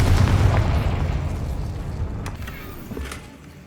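Confringo fire spell in Hogwarts Legacy exploding, a heavy rumbling blast that rolls and slowly fades over several seconds, with faint crackles near the end.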